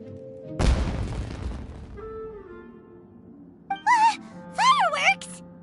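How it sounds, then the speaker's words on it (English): A firework blast in the video game Genshin Impact: a loud, booming burst at the start that rumbles and fades over about two seconds. Voiced character sounds follow later in the scene. "Was that an explosion? It sounded like fireworks."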